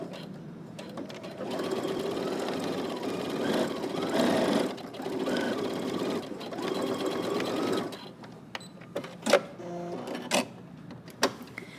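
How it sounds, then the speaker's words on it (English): A sewing machine back stitching the seam of slacks: a steady run of close mechanical whirring for several seconds, then stopping and starting in short clicks and bursts. "Okay, we're going to start and back stitch."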